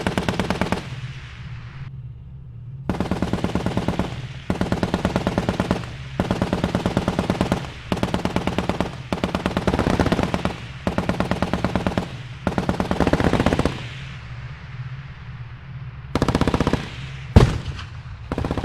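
Coax machine gun fire from an M2 Bradley in the Armored Warfare video game, loud close bursts of rapid shots repeated in regular intervals, with short pauses between bursts and a heavier boom near the end.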